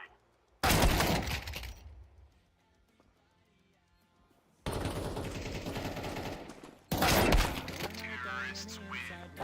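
Counter-Strike match with a loud flashbang burst followed by bursts of rapid gunfire, sharp and close, with quieter gaps between the volleys.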